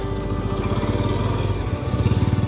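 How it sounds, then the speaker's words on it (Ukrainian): A Yamaha Serow motorcycle engine runs steadily close by, a loud, even, throbbing single-cylinder drone with no speech. "Аліна тестує Ямаху"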